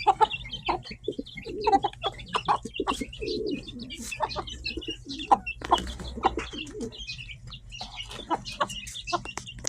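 Chickens and pigeons feeding on scattered crumble feed, with busy clucking, cooing and sharp pecking clicks close by, a continuous low hum underneath and no talk.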